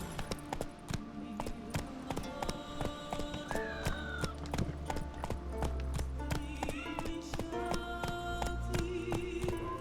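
Hooves clip-clop in a steady galloping rhythm as a horse runs in The Witcher 3 video game, close and continuous over layered game music and effects.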